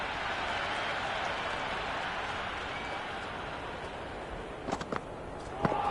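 A cricket crowd in a stadium cheers after a six. A steady, distant roar of voices fills the air, with a few sharp claps and thuds near the end.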